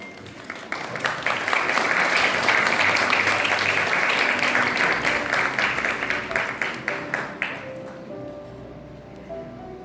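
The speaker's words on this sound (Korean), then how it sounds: "여러분 따뜻한 박수로 함께 해주시길 바랍니다" A room full of wedding guests clapping warmly, building quickly, holding steady, then thinning to scattered claps as soft music continues underneath.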